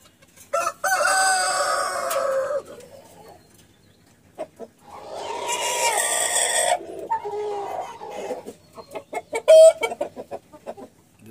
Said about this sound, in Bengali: দেখতেই পাচ্ছেন খুবই চমৎকার একটা মুরগি।